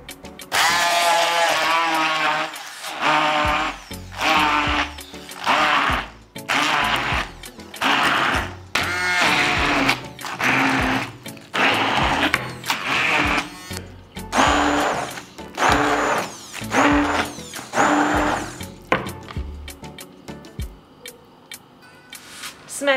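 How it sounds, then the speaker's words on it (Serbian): A stick blender purées seasoned, salted vegetables in repeated whirring bursts, each a few seconds long with short pauses between, loud and close with a rattling mechanical edge. "I zatim ću sve sa štapnim mikserom usitniti."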